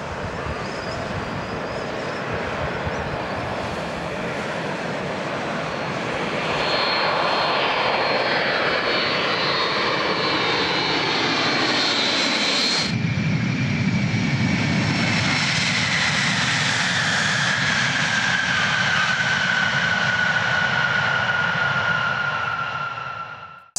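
A Boeing 747 jet landing at Sydney Airport in 2000 roars steadily and loud throughout, its engine noise swelling midway as the aircraft passes close, then a whining tone slides downward as it continues.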